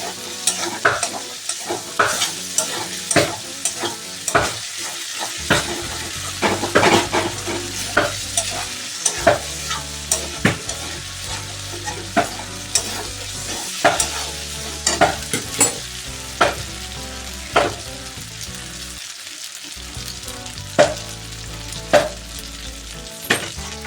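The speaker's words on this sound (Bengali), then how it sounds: "এবার আমি এর মধ্যে আলুগুলিকে দিয়ে দেব দিয়ে আবারও কষিয়ে নিচ্ছি" Potatoes are stir-fried in a cooked spice masala, with steady sizzling beneath repeated scraping and clanking stir strokes of a spoon against the pan in an uneven rhythm, close and fairly loud.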